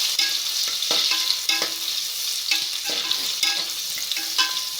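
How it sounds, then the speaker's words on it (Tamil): Chopped onions and green chilies frying in a pan for tomato rice, a bright continuous sizzle with repeated stirring scrapes every second or so, close and without speech. "பச்சை மிளகாய் நல்லா வதங்கின உடனே பெரிய வெங்காயம் 4 கட் பண்ணி போடணும்."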